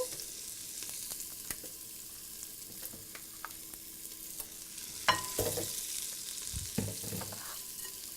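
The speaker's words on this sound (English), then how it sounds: "We're going to cook down our onions. Now, let's go ahead and put those in." Onions frying in a pan on a home stovetop while a whole wheat pasta dish with beans and greens is cooked. A steady close sizzle runs throughout, with scattered clicks and louder spoon-stirring clatters near the end.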